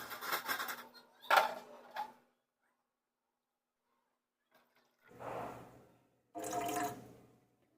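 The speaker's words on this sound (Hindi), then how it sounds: "दूध ज़्यादा रखती हूँ, तो दूध डालेंगे अब इसमें।" Milk, buffalo milk in a home kitchen, is poured into tea heating on the stove in short splashing bursts separated by silent pauses, quiet and close.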